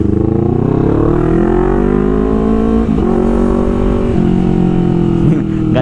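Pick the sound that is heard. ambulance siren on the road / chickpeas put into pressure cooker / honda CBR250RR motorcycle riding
honda CBR250RR motorcycle riding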